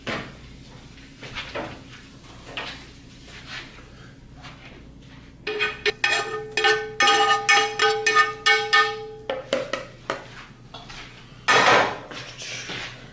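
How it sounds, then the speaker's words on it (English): Cooked onions are scraped from a pan into a bison slider mixture in a home kitchen, giving a burst of close metallic clatters and utensil scrapes against cookware, with quieter knocks before and after. "we're going to transfer the onions from here into that mixture that we made"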